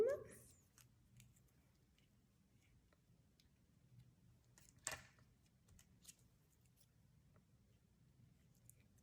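Scissors trim a paper Halloween ghost decoration for a scrapbook photo layout, producing faint, sparse snips and small paper ticks in a quiet room, with a louder rustle near the start and one sharper snip midway.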